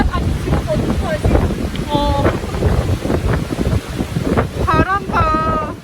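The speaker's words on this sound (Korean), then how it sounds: "바람 봐. 말이 제대로 안 나오는데." Strong wind buffets the microphone at a winter campsite beside a Starex camper van, a loud steady rumble running throughout, with people talking over it in Korean.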